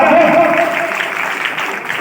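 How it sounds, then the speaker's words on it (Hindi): A hall audience at a Hindi talk on the Ramcharitmanas breaks into loud, dense clapping that starts strong and eases slightly, with a faint vocal tone at the start. "जोरदार तालियां"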